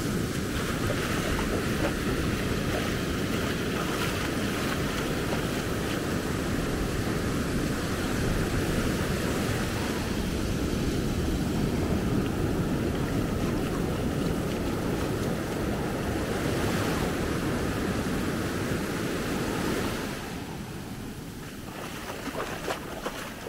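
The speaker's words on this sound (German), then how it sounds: "auch jetzt gerade die Wellen hier mit dabei" Ocean waves wash steadily onto the shore at Maspalomas, Gran Canaria, in the morning, a dense, continuous roar with wind mixed in, easing slightly toward the end.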